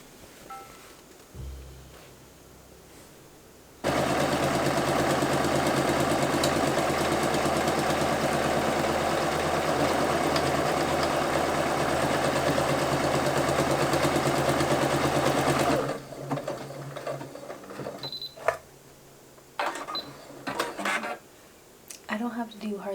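A Singer Quantum Stylist sewing machine stitches buttonholes in a steady, continuous mechanical whir for about twelve seconds, followed by fainter clicks and handling sounds.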